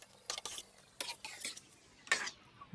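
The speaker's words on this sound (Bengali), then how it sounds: "এবার চালটা আমরা এই মশলা এবং তেলের ভিতরে লো হিটে আস্তে আস্তে সুন্দর করে ভেজে নিব" Polao rice being stirred and fried on low heat in oil and spices for old Dhaka-style beef tehari: a few distinct scraping, clinking utensil strokes against the pot, spaced apart over a faint background, with no talking.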